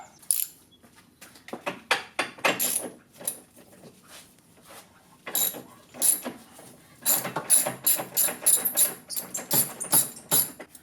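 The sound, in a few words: tightening the starter generator belt on a 2002 EZGO TXT golf cart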